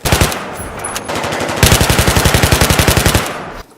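AUG assault rifle in the video game Battlefield Bad Company 2 fires loud, rapid automatic bursts, a short burst then a long even stream of closely spaced shots, cutting off abruptly near the end.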